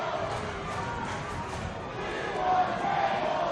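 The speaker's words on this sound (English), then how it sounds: "When the fans chant for tables, that's never a good sign." Wrestling fans in an arena crowd chanting in unison for tables during a Rhino vs Tommy Dreamer match, a steady rhythmic roar of voices that swells louder toward the end.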